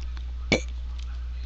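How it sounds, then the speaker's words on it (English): A single short burp from a person, a brief loud burst standing alone over a steady low hum. "I just burped."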